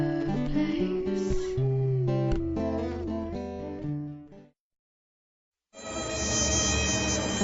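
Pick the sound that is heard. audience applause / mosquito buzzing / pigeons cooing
mosquito buzzing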